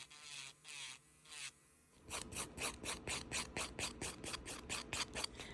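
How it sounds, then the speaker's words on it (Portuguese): An electric nail drill bit files around the cuticle of a fingernail: a few brief high whirring passes, a pause, then rapid rhythmic buzzing strokes close by and fairly quiet. "Vou usar essa broca aqui pra lixar ao redor da cutícula todo."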